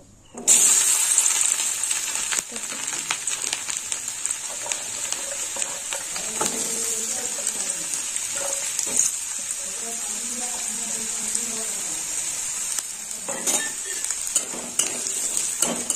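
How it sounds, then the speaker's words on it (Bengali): Potato pieces frying in hot oil while a mocha (banana flower) dish is cooked, a steady close sizzle throughout with occasional stirring clatter. "আলুটা একটু লাল লাল করে ভেজে নেব"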